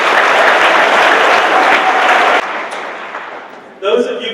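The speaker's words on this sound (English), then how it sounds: "So let's give them a round of applause." Lecture series audience gives a loud round of applause that sustains for a couple of seconds, then tapers away, and a voice begins speaking at the end.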